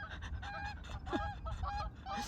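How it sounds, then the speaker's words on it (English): Canada geese honk repeatedly in a noisy chorus, their calls overlapping steadily at moderate distance with no talking. "explain me why these Canadian geese"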